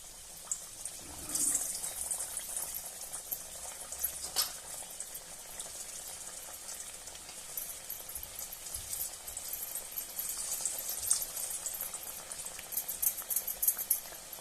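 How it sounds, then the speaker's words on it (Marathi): Pumpkin gharge, sweet Maharashtrian fritters, fry in hot oil, giving a continuous fine bubbling crackle with occasional louder sputters close by. "घाऱ्या तळण्यासाठी तेल गरम झालेलं आहे."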